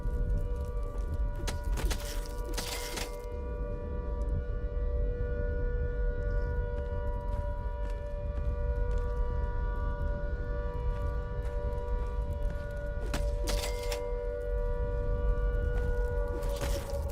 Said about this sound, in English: Big siren.